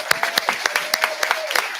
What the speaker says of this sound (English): give Milford Youth Matters volunteer fundraisers a huge round of applause.